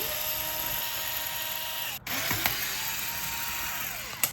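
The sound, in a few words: power drill removing deadbolt screws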